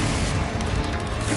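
A single short, heavy magical blast from the Confringo spell in Hogwarts Legacy, a loud, booming burst that fills the moment with crackling noise.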